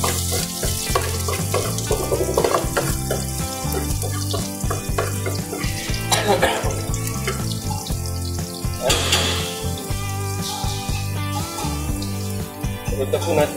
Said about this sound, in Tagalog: Ilagay na po natin yung bawang. Labasin lang natin yung aroma ng bawang.